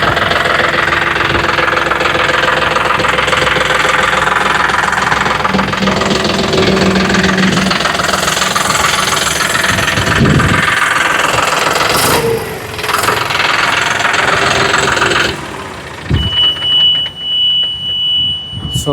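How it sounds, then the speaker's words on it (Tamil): The 50 HP diesel engine of a John Deere 5210 tractor idles loudly and steadily with a rough, knocking rumble, followed by a few clunks and rattles near the end. "இன்ஜின் சவுண்டு பாருங்கள் எப்படி இருக்குதுன்னு."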